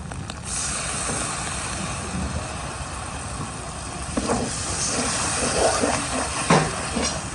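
Spices frying in oil for a mota dal and dumur curry hiss steadily, with a louder burst of sizzling near the end as a little water is added to the pan.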